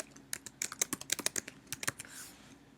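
Fast bursts of clicks from a computer keyboard as text is typed into a Mathematica input cell, close and crisp, ending in a short pause.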